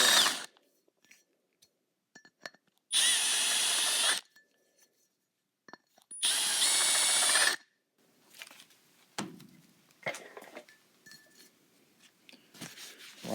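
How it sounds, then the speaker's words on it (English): A countersinking tool deburrs a steel lower 4-link arm in two loud, sustained grinding bursts of about a second and a half each, separated by quiet gaps with small scrapes and clicks, no speech. "countersinking tool. Just stick it in there and do a little bit, and it makes a nice little"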